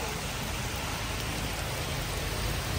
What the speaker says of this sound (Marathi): पावसाने जोर घातलेला आहे.